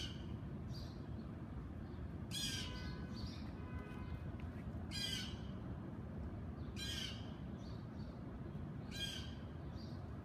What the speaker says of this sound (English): Look at the bird attacking him.